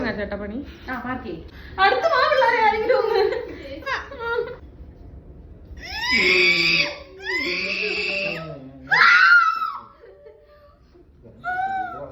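A woman lets out several high-pitched shrieks and pained cries during an ear piercing, broken by laughing gasps and short pauses.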